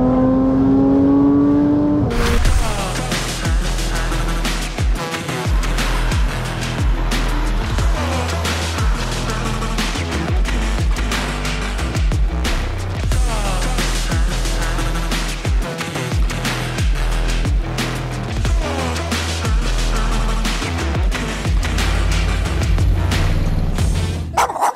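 A Porsche 911 with a new custom exhaust revs repeatedly up close and loud, rapid throttle blips and growling bursts filling a long stretch after a quieter start.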